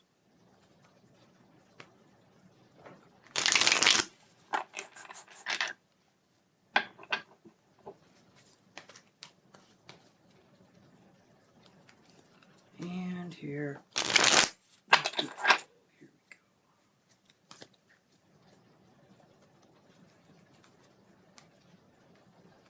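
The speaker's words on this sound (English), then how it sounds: "Let's get these nice and shuffled here" Tarot cards are shuffled in two quick riffling bursts with light tapping between, and someone talks quietly in the background.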